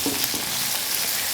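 Ginger, garlic and green chillies sauté in a hot pan for masala puri, giving off a loud, steady, close sizzle with faint stirring and no talking.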